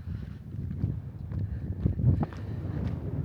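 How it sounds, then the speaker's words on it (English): Gusty morning wind at Capitol Reef National Park buffets the microphone with low, rumbling roars that rise and fall, with faint scattered knocks underneath. "It is a windy and chilly morning here"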